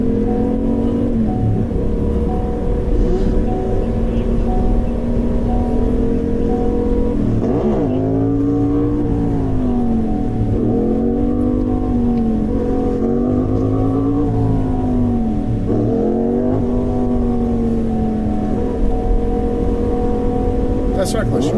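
Car engines rev and surge through repeated rising and falling pitch sweeps, recorded from a police dashcam during a reckless-driving pursuit; the loud, steady drone runs throughout with talk over it.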